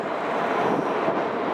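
An Airbus A330 jet at Manchester Airport produces a steady, broad roaring howl, loud and continuous, mixed with wind rumble on the microphone.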